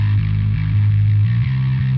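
Bass guitar played through a Darkglass Alpha Omega 500 amp on its distortion-inspired setting: a loud, sustained, gritty low note that shifts pitch slightly, heard alone.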